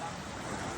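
Ocean surf at a beach in Elyu, a brief, continuous roar of breaking waves with wind buffeting the microphone.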